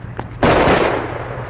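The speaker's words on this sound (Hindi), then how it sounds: "तुमने फायर क्यों किया?" One loud gunshot in a dramatic film scene, a sharp, close blast that rings out and fades, preceded by a faint click.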